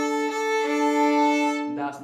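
A violin bowed across two strings at once, a sustained, harmonically rich double-stop held steady for under two seconds before a brief scratchy change at the end.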